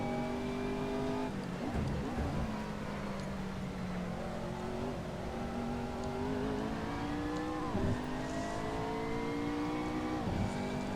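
A McLaren MP4 GT3 race car in Assetto Corsa holds a steady, high, tonal engine whine through a lap. It dips sharply on downshifts and under engine braking, then climbs again under throttle, loud and continuous with no talk.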